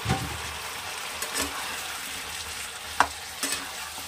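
Pointed gourd and potatoes frying in spices in a pan, a steady close sizzle with occasional scraping stirs and small clinks of the spoon against the pan.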